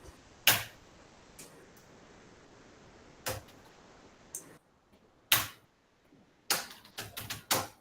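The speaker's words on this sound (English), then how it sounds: "Is it visible that I am typing in Hindi?" Typing on a computer keyboard, sharp isolated key clicks at irregular intervals, a few single taps early on and a quick cluster of keystrokes near the end, close and fairly quiet over faint background hiss.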